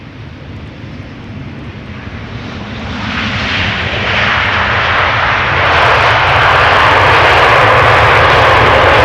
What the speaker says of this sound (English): 777-200ER, first flight January 2005. We'll have a quick look at the landing